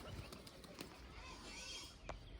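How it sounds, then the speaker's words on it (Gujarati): Pigeons let out of their coop, with soft fluttering wingbeats and faint bird sounds at low level against a muffled, noisy outdoor background. "ફાઇનલી બધા કબૂતર આપણે આવી ગયા બારે. અને ઉડતા થઈ પણ નીચે આવી ગયા."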